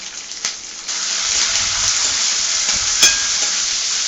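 Curry leaves with dried red and green chillies crackle in hot oil for an Andhra-style tempering, a loud continuous hiss that jumps up after a brief spatter, with a sharp pop near the end.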